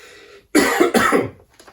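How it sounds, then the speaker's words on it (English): A single harsh cough burst breaks a brief quiet, followed by a second rougher cough and a faint throat sound trailing off at the end. "don't get alarmed with COVID, with my coughing"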